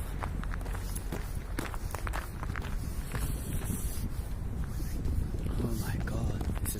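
Footsteps of someone walking outdoors through cold Zagreb streets in sub-freezing weather, steady steps close by amid continuous wind and city noise, with a voice talking over them.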